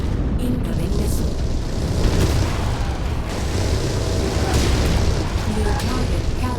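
Missile explosions in a mech combat video game come as a dense, loud, continuous booming rumble with heavy low-end impacts that blend into the ongoing battle noise.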